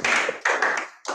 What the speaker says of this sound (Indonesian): Kasih tepuk tangan buat Tuhan Yesus.